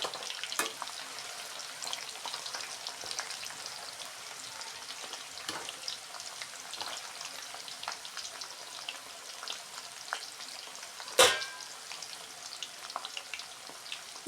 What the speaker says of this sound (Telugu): గోల్డెన్ కలర్లో వచ్చేదాకా వీటిని వేయించుకోవాలి ఆయిల్లో.